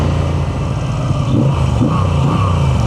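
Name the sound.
Moto Guzzi V7 Sport boxer engine revving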